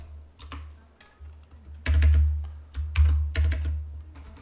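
A computer keyboard used during Adobe InDesign CS6 page-numbering work gives scattered clicks, then several louder, closer key presses in small clusters, a shortcut chord struck alone with no talk.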